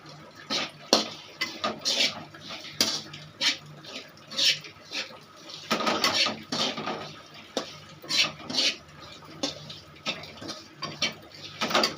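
Curry leaves and masala spices roasting in a pan, with a spatula clattering and scraping against the metal in irregular bursts, close and moderately loud, without talking.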